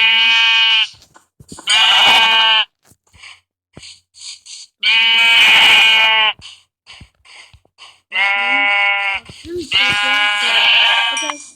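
Sheep bleat in Minecraft, five loud, drawn-out wavering bleats spaced a second or two apart, with short soft sounds between them and no talk over them.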